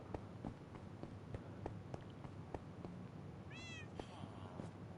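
Cats meow a few times amid ambient game noise in Reanimator, with a soft rising, wavering call near the end, steady faint clicks or footsteps running throughout, and quiet background talk.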